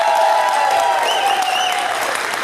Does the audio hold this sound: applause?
yes